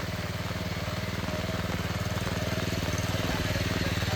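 A farm machine engine runs steadily while working a village field during the rains, a loud, close, rapid low chugging that holds even throughout, with no voices.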